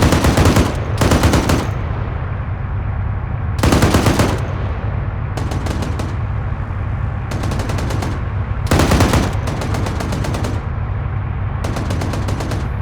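Gunfire during a military field training exercise: loud bursts of rapid automatic fire in repeated clusters over a continuous low rumble, close and intense, no talking.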